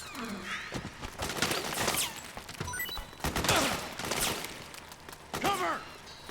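Suppressing gunfire in the video game Metal Gear Solid 4, a burst of rapid shots and thuds mixed with game sounds and soldiers shouting over one another.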